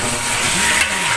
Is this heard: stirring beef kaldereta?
yes